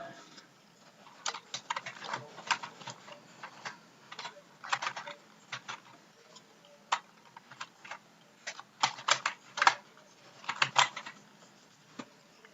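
Irregular bursts of computer keyboard typing entering text in TradingView charting software, crisp close key clicks in uneven clusters with short pauses, no talking.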